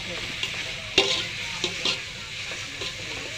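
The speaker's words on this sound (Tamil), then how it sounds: "நல்லா கிண்ட வேண்டியதுதான்" A spoon stirs food frying in a pan for a Sunday home-cooked meal, producing a close sizzling hiss punctuated by several sharp scrapes and clinks against the pan.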